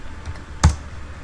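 A few keystrokes on a computer keyboard while a search word is typed into the Bing search bar, faint soft taps followed by one sharper, louder key press near the middle, close by and alone.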